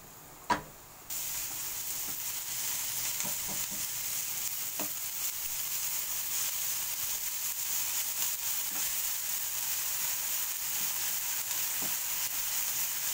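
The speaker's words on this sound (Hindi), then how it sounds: "अब हम इसमें डालेंगे हरी मिर्च" Green chilies hit hot oil in a pan, starting with a sharp burst, then a steady, close sizzle and frying hiss that carries on evenly with a few soft stirring clicks.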